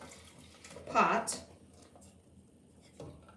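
Two pints of Guinness Baltimore Blonde beer are poured into a cooking pot for braised corned beef, making a brief splashing gush of liquid under a nearby speaking voice.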